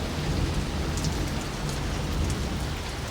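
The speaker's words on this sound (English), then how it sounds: "It's still raining." Steady rain falls outdoors in an even, continuous wash of close patter, with no voices, holding unbroken the whole way through.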